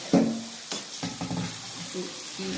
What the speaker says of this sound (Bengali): আমটাকে আমি একটু ভেজে নিই।